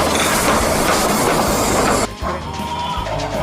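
A toy train rattles and clatters loudly up close, then after a sharp knock it continues with a softer rhythmic clicking.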